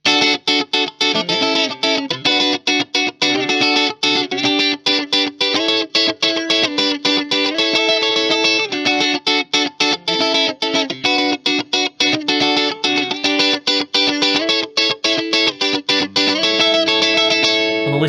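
Clean electric guitar played through a Marshall flagship amp with heavy compression, a continuous run of sustained, evenly leveled notes and chords with quick picked articulations, loud and close, with no talking.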